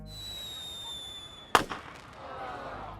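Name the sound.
single small firework bang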